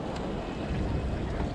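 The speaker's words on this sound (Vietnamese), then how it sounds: "Sóng nó đập quá." Strong ocean waves crash and slosh around a small boat at sea in heavy wind, a loud, continuous roar with wind buffeting the microphone.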